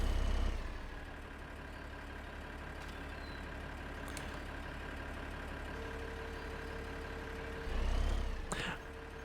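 A tractor engine in Farming Simulator 15 idles and runs steadily with a low, droning hum throughout, swelling briefly near the start and again near the end.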